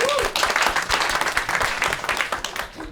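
A crowd at a Ukrainian roast battle comedy show welcomes the host with applause: a brief voice at the start, then dense, lively clapping with sharp individual claps standing out throughout.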